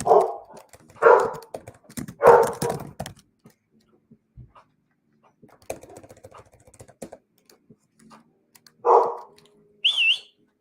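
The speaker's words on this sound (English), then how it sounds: "My fault, got dogs barking." A dog barks near a home in a short burst of several loud barks early on, then quieter scattered sounds follow, with another bark later and a brief whistle-like tone at the end.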